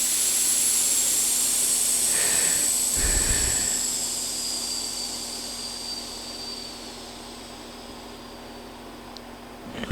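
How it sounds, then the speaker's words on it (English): Air rushes out of a tire on a tire machine in a steady, loud hiss that slowly fades as the pressure drops, with a brief low thump partway through. "Gotta get all the air out of it"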